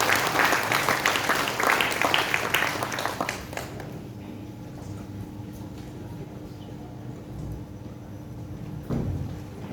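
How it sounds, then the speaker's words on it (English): An audience at a Cyprus independence celebration gives a round of applause, a dense wash of clapping that fills the first four seconds and then fades into quiet room noise with a faint later rustle. "Let us give her a round of applause."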